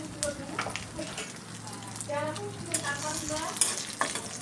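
Steady crackling sizzle of mustard seeds, fenugreek, split lentils and dried red chillies spluttering in hot oil for tempering, continuous and close, with occasional sharper pops.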